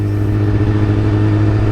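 Motorcycle cruising on a freeway, its engine giving a steady, close, low drone with a constant hum and no break or change in pitch.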